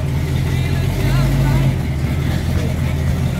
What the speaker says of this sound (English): Motor sounds incredible.